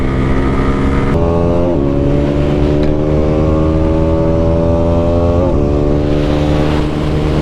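A sport motorcycle in a drag race among Yamaha R15, MT-15 and Bajaj NS250/N250 bikes accelerates hard in sixth gear, a loud sustained engine whine rising in pitch with a brief dip at a shift, heard close with no talk.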